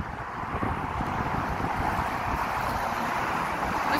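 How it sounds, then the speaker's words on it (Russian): Steady wind buffeting a microphone, a continuous low rumble with broadband rushing noise throughout, fairly loud and unbroken. "Вот почему постоянно ветер? Неужели нельзя, чтобы этого ветра не было? Каждый день ветер."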